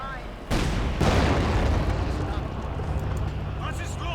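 Pak 40 anti-tank guns firing in the World War II strategy game Company of Heroes 2, two sharp heavy booms about half a second apart, loud and close, followed by a rumbling battlefield din.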